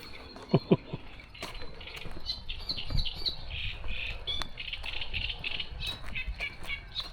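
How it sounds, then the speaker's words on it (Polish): Birds squawk and chirp over a lake, with sharp calls and a couple of loud bursts early, then ongoing chatter above a rough outdoor background. "Ależ ja kocham te ptaki, kurde. No coś pięknego. Pięknie skrzeczą mnie tu nad wodą."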